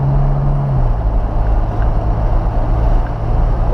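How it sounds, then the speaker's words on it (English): A Porsche 911 drives a slow warm-up lap on a race track at night, its engine a loud, steady low drone heard from inside the car with wind noise, the pitch dropping slightly early on. "So we do a slow lap, just let the car warm up."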